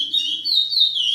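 A caged curió (Sporophila angolensis) just out of molt sings a clear, sustained whistled phrase, high and warbling with smooth pitch slides, loud and close with nothing else around it.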